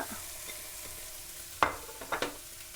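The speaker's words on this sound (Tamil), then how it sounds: "தக்காளி பழம் இவ்வளவும் ஒரு அரைவாசி வதங்கணும்" Cabbage, carrot, tomato and peas cooking in a pan as filling for Indian bonda give off a faint low sizzle, broken by a few sharp stirring clacks near the end.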